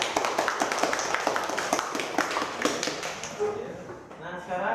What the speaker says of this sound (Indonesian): Coba beri tepuk tangan.